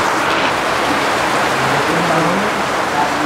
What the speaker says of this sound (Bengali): বৃষ্টি কিন্তু ছাড়ার নাম নাই